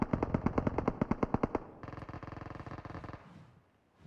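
Automatic gunfire in the PUBG Mobile battle royale, Erangel map: a loud burst of about a dozen rapid evenly spaced shots, then a quieter, faster second burst that fades out, with no talking.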